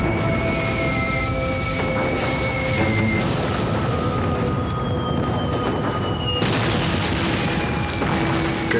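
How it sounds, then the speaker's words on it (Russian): Dense, continuous rumble of distant artillery and mortar fire striking a cape from across the water, booms overlapping into a steady roar with sharper blasts breaking through. "С противоположного берега по мысу ударили пушки и минометы."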